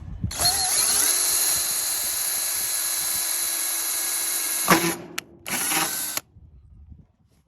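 A power drill bores holes in carbon fiber fenders for a Nissan GT-R R35, one long high-pitched whining run followed by a few short bursts as the bit finishes, close and loud, no talk.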